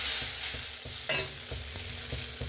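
Ivy gourd and potato fry in a pan with a steady sizzle, while a spatula stirs them in repeated scraping strokes. One sharper clatter comes midway. The sound is close, with no voices.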